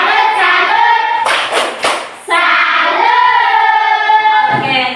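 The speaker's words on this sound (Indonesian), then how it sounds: "sekarang kita beri tepuk salut untuk kelompok 1" A classroom group does the rhythmic 'tepuk salut' cheer after a group presentation in an elementary science lesson, with patterned claps and chanted voices filling the clip and a short break near the middle.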